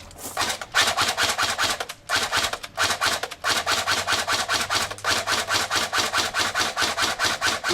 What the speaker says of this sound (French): Ah ce beau bruit de molette.